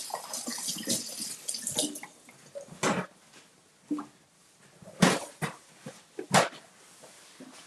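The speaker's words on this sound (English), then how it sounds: "Just going to give it a quick rinse." Water runs from a kitchen tap over a silicone mold, with splashing and irregular louder bursts as the mold is turned and rinsed, close and steady, with no talking.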